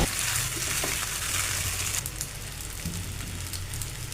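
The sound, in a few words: stirring boiled pasta with spices in a pan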